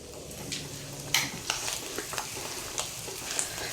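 Bitter gourd and onion frying in a pan with oil, a steady close sizzle broken by several sharp scrapes and clinks as the pieces are stirred.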